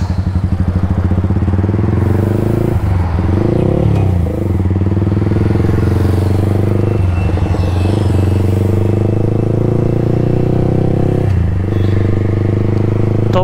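A brand-new Yamaha R15 V4 with a loud aftermarket exhaust riding at night on S.G. Highway, its engine droning steadily up close with a few brief rev changes, mostly alone.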